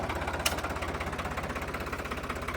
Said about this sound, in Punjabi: ਦਾਣੇ ਗਿਣਦਾ ਇੰਜਣ ਹੈ ਵੀਰੇ